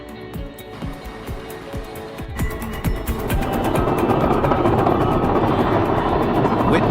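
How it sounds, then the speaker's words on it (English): Mil Mi-26 heavy-lift helicopter, the world's largest, with a loud, close rotor chop that starts as distinct rhythmic beats and builds into a dense, steady roar. "the world's largest helicopter, the MiL-Me-26, tackles its greatest challenge yet"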